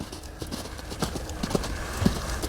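An old horse moving at an easy pace, its hooves clip-clopping in a steady, close rhythm with faint background noise and no talk.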